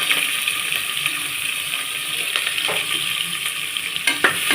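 Spices and green chillies fry in hot oil for chicken biryani, a steady close sizzle and crackle running throughout with occasional clinks and stirring knocks from the pan, no voices.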